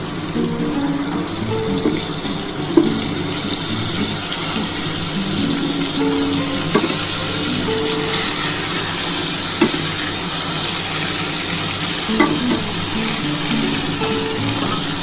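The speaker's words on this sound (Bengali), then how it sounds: "এটা ভালো করে ভেজে নিতে হবে আলু ফুলকপিটা" Potatoes and cauliflower frying in a pan for a home-style curry, a loud, continuous sizzle broken by occasional sharp clacks of a spatula stirring against the pan.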